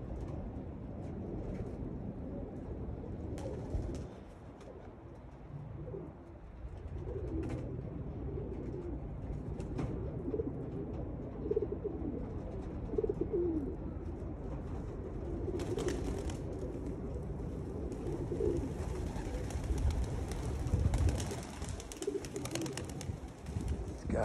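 Pigeons coo in a loft during the first fly of the new year, low repeated cooing mixed with wing flutters and steady background noise throughout.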